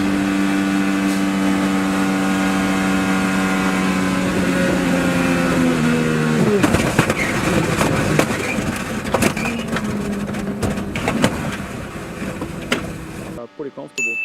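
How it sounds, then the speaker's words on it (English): An IndyCar's onboard engine at the Indianapolis 500, driven by Will Power, holds a loud, steady high-revving whine. About halfway through, the note drops sharply into rough, scraping bursts and clatter as the car spins. "let's go on board with Will Power and just listen"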